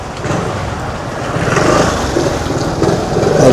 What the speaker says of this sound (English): Yeah, there you go. Motorbike.